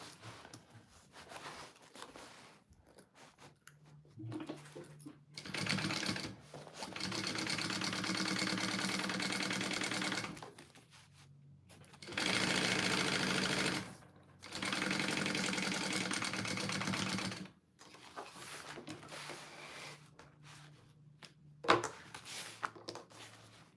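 A sewing machine runs in several long steady bursts, basting and topstitching the lining of a fabric tote bag, its fast even hum separated by short quiet pauses with small handling noises, close and without talk.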